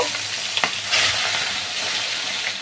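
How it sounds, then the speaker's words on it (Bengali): Prawns frying in hot mustard oil for a Bengali prawn malai curry, a steady close sizzle and crackle running throughout with a brief louder burst of spatter near the start, no voices. "এবার আমি চিংড়ি মাছগুলো সব ভাজা করে নেব"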